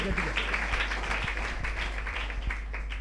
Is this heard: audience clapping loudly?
yes